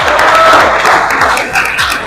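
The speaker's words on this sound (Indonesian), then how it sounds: "Kita beri aplaus untuk kita semua." Applause from a class of Indonesian grade 12 students in a classroom, steady dense clapping close by for the whole stretch with a few cheers mixed in.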